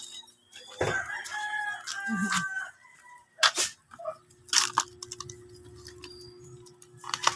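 Pet chickens with a rooster crowing, clucks and crowing calls carrying at moderate distance, interspersed with short clattering knocks and rustling noises in a quiet yard.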